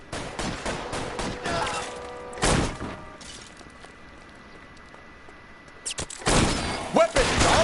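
Gunfire in L.A. Noire: sharp shots crack in irregular clusters, with a loud burst near the start, a quieter stretch, then a dense volley of reports at the end.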